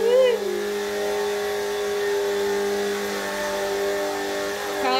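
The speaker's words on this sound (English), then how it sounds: "loves the vacuum now" A household vacuum cleaner runs with a steady tonal whine and hum throughout, its pitch slightly shifting at the start and end, while a voice is heard over it.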